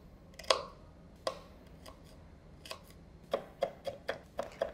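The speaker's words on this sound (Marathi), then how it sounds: "सगळ्यात आधी भरपूर असा लसूण, जितका शक्य असेल तितका बारीक चिरून घ्यायचा." Garlic is chopped finely with a knife, probably for crispy cabbage Manchurian, giving sharp, close, quiet knife taps that start sparse and speed into a quicker rhythm near the end, with no talking.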